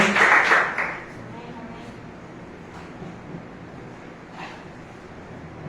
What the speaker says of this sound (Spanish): Un aplauso a Dios, Señor.